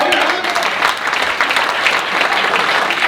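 Audience at a talk-show style conference bursts into dense, steady applause, loud and close, with a faint voice underneath.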